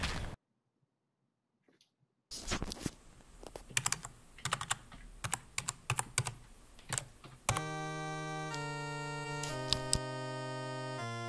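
Key clicks of someone entering the Konami code (up, up, down, down, left, right, B, A) on a computer keyboard on the Bank of Canada website, a quick irregular run of taps, followed by a steady electronic tune playing the Canadian national anthem.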